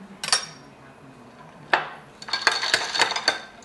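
A margarita with ice and agave syrup being stirred in a glass: a spoon clinks and scrapes against the glass in a few sharp bursts, then a quick run of rattling clinks near the end.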